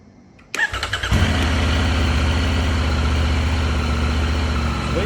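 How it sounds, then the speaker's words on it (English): A 2023 Triumph Tiger 900 Rally motorcycle cranks briefly after a quiet start, then its engine catches and settles into a loud, steady low idle rumble, close up with no talk. "We're going to start the bike now and see what that light does."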